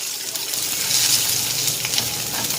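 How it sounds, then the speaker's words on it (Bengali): Dried curry leaves frying in hot oil as a tempering for semolina and yogurt dhokla, a steady close sizzle with bright crackle that swells midway and holds without letting up, no voices over it. "এটা একটু ভেজে নিই।"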